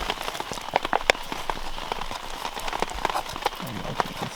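Rain patters steadily on a tarp over a spring camp in Algonquin, a dense, even wash of drops with scattered sharper taps, close and moderately loud, no voices.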